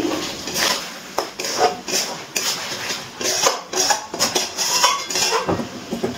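A pot lid lifted and a spoon stirring chicken curry with potatoes, giving repeated close metallic clinks and scrapes against the pot in an irregular rhythm, with no talking.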